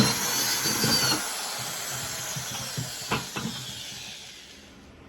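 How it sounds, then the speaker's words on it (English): A power drill whirs into a plastic bucket, boring holes so water can reach a pump inside, a steady hissing grind with a couple of sharp knocks near the end. "So I'll just drill a few holes in this so that it'll take water in, keep the pump underwater,"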